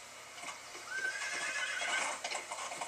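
Horses neighing and clip-clopping in the Go Vacation video game at a mountain resort, one clear whinny rising over dense, steady hoofbeats and bright game noise.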